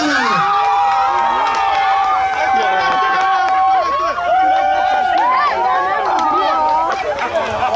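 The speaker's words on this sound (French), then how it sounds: "Des applaudissements nourris à votre endroit, mesdames, s'il vous plaît." Wedding guests at a reception meal cheer and shout excitedly for the ladies, a loud, dense crowd noise with many overlapping voices throughout.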